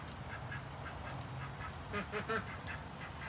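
Pekin ducks quack in short, faint bursts near the end of a steady low outdoor hum. A few soft calls stand out over the background.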